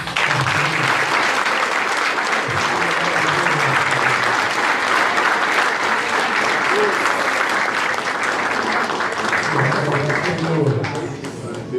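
Worshippers at a church gathering break into sustained applause at the close of a message. Dense, loud clapping from a large crowd runs throughout, with voices and cheers mixed underneath.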